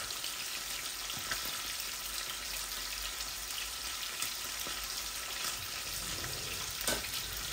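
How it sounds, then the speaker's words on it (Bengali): Fish frying in hot oil for a mustard-paste fish curry, a steady close crackling sizzle with scattered sharper pops, continuous and alone without speech. "মাছগুলা ভাজা ভাজা হোক আর আমার তেলটাও গরম হোক"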